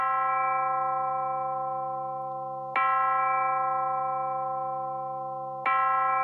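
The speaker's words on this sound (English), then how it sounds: "Let's try the chime." A chime graintable on the Reason Malstrom synthesizer, one key held down, gives a sustained bell-like tone that restrikes twice with a bright attack and slowly fades between strikes.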